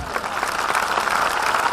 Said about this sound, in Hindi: तालियां कम बजी है